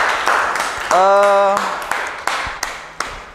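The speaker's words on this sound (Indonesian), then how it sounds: "Tepuk tangan." Sparse, scattered hand claps from a small classroom group at a teaching practice session, a few separate claps spread across a couple of seconds, with a brief voice in the middle.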